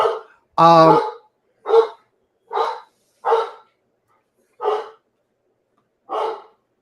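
A dog barks seven times in separate sharp, fairly close barks, the second longer and fuller, spaced by short silences in otherwise quiet surroundings.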